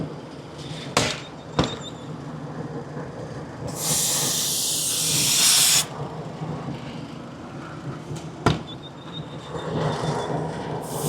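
Pressurized refrigerant purged from a bottom service valve lets out a loud, steady hiss that lasts about two seconds, with a few sharp clicks and clunks before and after.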